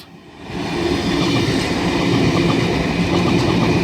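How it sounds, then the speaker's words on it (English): Campbelltown-bound S-set suburban train passing on the Down Main at night, a loud steady rumble of wheels and carriages building quickly and holding close throughout, with no voices. "Another Campbelltown bound train about to pass the Down Main."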